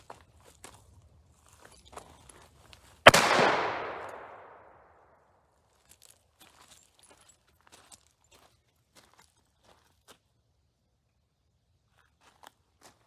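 A single loud report from a Ruger .45 Colt revolver firing a 250-grain bullet at a quarter, with a sharp crack ringing off into a decaying tail outdoors, surrounded by faint shuffling and small clicks.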